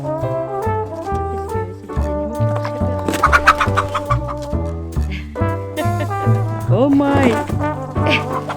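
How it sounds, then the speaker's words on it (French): Hens cluck and squawk close by at a henhouse under construction, with agitated bursts of cackling while people react with brief exclamations over busy background noise. "il a ramené 2 poules."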